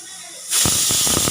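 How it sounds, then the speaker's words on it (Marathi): Quiet at first, then a pressure cooker's second whistle bursts in while cooking chana masala curry, loud steam hissing and sputtering steadily to the end. "आता आपली दुसरी पण शिट्टी होणार आहे"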